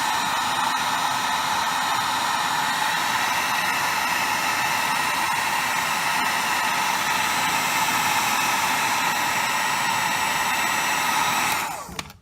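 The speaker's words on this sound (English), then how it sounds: "I'll get a heat gun and remove the sticker." A heat gun blows steadily while stripping a sticker from a BMW E46 M3 SMG transmission part, a loud, even whooshing hiss that runs unbroken until it cuts off near the end.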